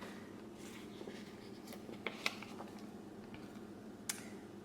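A pen scratches faintly as a birthday party entry goes into a paper planner, with soft intermittent strokes and a few small ticks against quiet room tone.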